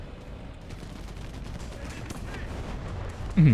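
Tank cannon fire and gunfire in the video game War Thunder rumble as several heavy bursts through a busy, noisy battle mix, with a person talking briefly near the end.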